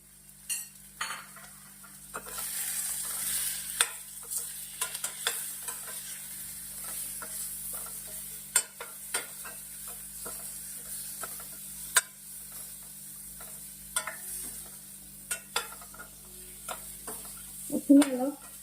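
Vegetables fry in a pan with turmeric, cumin powder, red chili powder and Maggi masala, under a low steady sizzle and repeated scraping and clinking of a spoon stirring against the pan, with no talking.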